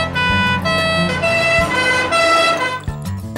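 An ambulance siren wails loud and close in an animated cartoon, a steady tone holding for a few seconds with a brief break near the end and no talking over it.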